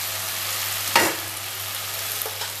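Tomato and ginger sauté in a pan with a steady broadband sizzle, and one sharp scrape or stir near the start sends up a brief louder burst of frying.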